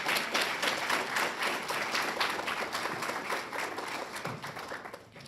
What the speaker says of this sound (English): please let's give a round of applause to everyone who came and spoke today